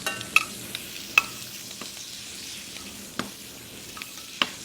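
Scallops sear in a pan with a faint, steady sizzle, punctuated by a few sharp clinks of a utensil on the pan, quiet and close with no speech.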